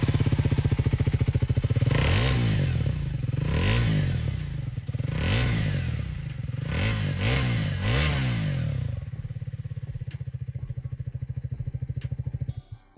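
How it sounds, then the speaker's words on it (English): Triumph Thruxton 400 with an upswept exhaust, revved repeatedly from a throaty idle in about five rising-and-falling blips, close and loud, then settling back to a steady pulsing idle. "That was the exhaust note, pretty nice and throaty"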